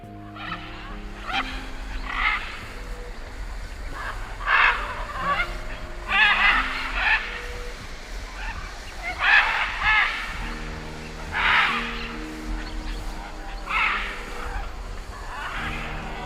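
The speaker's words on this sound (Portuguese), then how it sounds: "arara, macaw" A macaw gives repeated harsh, raspy squawks every couple of seconds, fairly close and clear over a steady low background hum.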